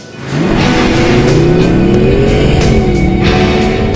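A Mercedes-Benz SLS AMG engine fires up sharply and revs hard, loud and close. The tone climbs steadily, dips briefly, then keeps pulling in a sustained, rising roar.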